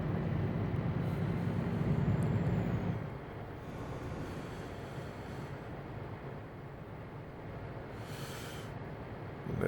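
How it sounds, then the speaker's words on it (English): A train rumbles past at a distance with a steady low roar that drops away after a few seconds, then a softer continuous rolling noise lingers. No one speaks. "There's a train going."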